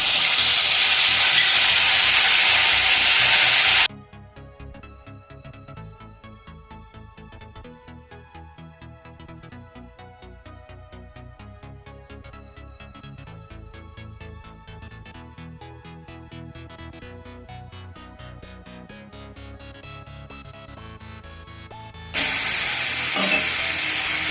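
Onion and whole garam masala sizzle and fry in a pan for egg curry, with steady stirring scrapes throughout, a loud hiss at the start and end framing a quieter, busy frying stretch.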